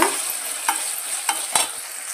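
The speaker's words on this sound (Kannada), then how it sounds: "ಹಚ್ಚಿಟ್ಟಿರುವ ಟೊಮೊಟೊ ಫ್ರೈ ಮಾಡ್ಕೊಂಬರೋಣ" Chopped tomatoes fry in a pan for vegetable rice bath, a steady close sizzle broken by a few sharp scraping stirs of a spatula against the pan.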